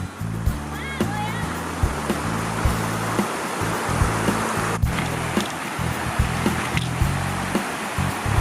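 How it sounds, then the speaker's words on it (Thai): Water pours steadily at a waterfall among green trees, a loud, continuous rushing hiss with faint low rhythmic thumps underneath. "ไม่รู้ว่าในกล้องจะได้ยินเสียงน้ำไหลเปล่าหรือว่าบรรยากาศดีมากเลยแล้วก็ พอมากๆเสียงน้ำตก"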